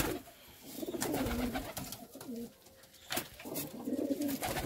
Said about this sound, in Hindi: क्या बेहतरीन मस्ती में चल रहे हैं कबूतर